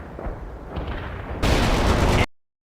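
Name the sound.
gunfire in video game World in Conflict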